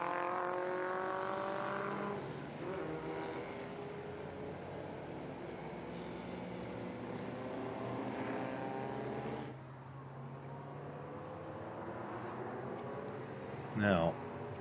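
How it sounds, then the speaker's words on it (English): A Martini-liveried Porsche historic race car passes at the Estoril Classics circuit, its engine note rising and falling as it goes by at a distance, under continuous race commentary. "There's the Martini Porsche from the Rollner team"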